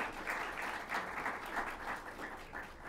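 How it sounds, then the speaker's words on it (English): Steady applause from an audience for students at a Commonwealth Day celebration in 2019, dense clapping filling the hall at a fairly even level with no voices over it. "Give them a round of applause again."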